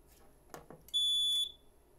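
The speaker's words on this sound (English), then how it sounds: "I'm gonna simulate that smoke detector going into alarm from the front panel here." A smoke detector on a Kidde VM fire alarm system with voice evacuation sounds one short, shrill electronic tone of about half a second, preceded by faint clicks in a quiet room.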